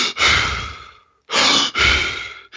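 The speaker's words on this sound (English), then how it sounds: "the first thing he teaches is this breathing method" Someone breathes in the Wim Hof superventilation style, taking two deep, forceful breaths close to the mic. Each is a loud, rushing inhale followed by a long exhale, with a short silent pause between the breaths.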